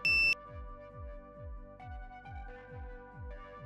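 A multimeter gives a single short, high-pitched beep while testing continuity on alternator components. The beep is brief and clear, followed by a soft, quiet tonal background.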